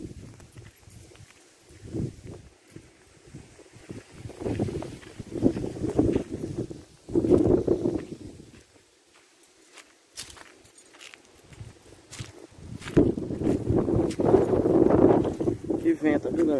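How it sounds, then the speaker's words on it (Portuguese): Strong wind buffets a microphone outdoors in open pasture country, rumbling low in gusts that swell and fade, with a quiet lull midway and a heavier surge toward the end. "Que vento, viu, galera? Bastante vento."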